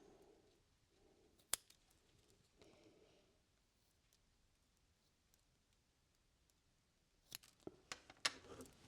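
Small scissors snip macramé necklace threads in a micro-macramé jewelry piece with metal beads: one sharp cut early, then a quick cluster of crisp snips near the end, with quiet handling sounds between.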